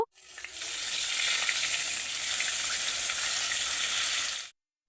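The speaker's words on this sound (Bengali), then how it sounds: "একই রকম করে আমি বাকি মাছগুলোকেও ভেজে নিব" Koi fish fry in hot oil in a pan, giving a loud, continuous hiss and sizzle that holds steady for several seconds before cutting off abruptly.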